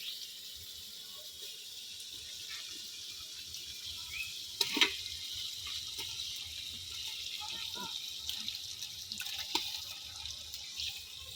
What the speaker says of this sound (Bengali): মশলা দিকে ধরো তো এখন আমি এই যে মাংসটা দিয়ে দিব।